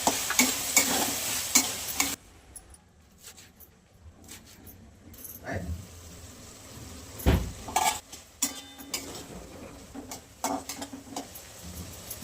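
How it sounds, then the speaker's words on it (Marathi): Peas cooked with masala in oil are sautéed in a pan for a fenugreek and pea dish, with close, brisk stirring and scraping of a spoon against the pan, scattered knocks and a soft sizzle underneath. "वाटाण्याला परतवून घेऊ थोडं 1-5 मिनिटं अजून."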